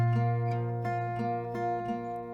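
Acoustic guitar strummed in a new chord pattern with alternating bass notes on each chord, a steady rhythmic strum with accented hits about every third of a second, close and clear with no voice.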